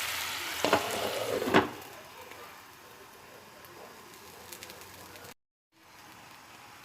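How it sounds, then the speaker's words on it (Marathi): A sweetened mixture boils in a covered pan on the stove while making Kolhapuri besan vadi, giving a soft, steady bubbling and sizzling hiss with a couple of brief louder clatters early on and a short silent gap near the end. "आता चांगली उकळी येऊन द्यायची"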